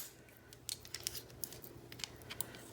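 Small scissors snipping off excess cotton wick on a rebuildable dripper atomizer, a run of quick, crisp close-up cuts in an uneven rhythm against a quiet background.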